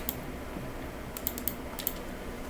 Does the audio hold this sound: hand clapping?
no